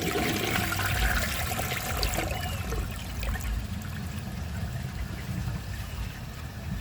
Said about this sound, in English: That was basically exactly what I predicted, except that it did flush a little bit longer.